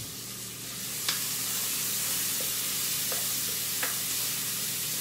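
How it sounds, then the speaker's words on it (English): Shallots, garlic and chorizo sauté in a pan with a steady soft sizzle, broken by a few sharp clicks and taps of a spoon against the pan. "I'm gonna saute that for a few minutes"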